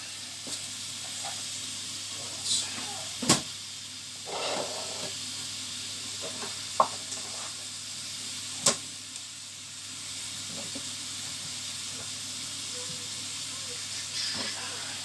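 Food sizzles steadily in a pan, a constant hiss with occasional sharp clicks and clatter of utensils, close by and without speech.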